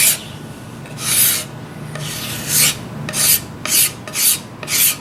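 A homemade rasping tool smooths and rounds the corners of a wooden bass guitar neck, giving six rhythmic, loud scraping strokes that come quicker toward the end, with no talk over them.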